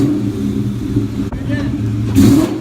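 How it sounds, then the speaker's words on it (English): A Mustang GT with an exhaust leak idles and then blips its throttle, the steady rumble swelling into a short rev near the end, with someone talking over it. "Rev it or no? Rev it again."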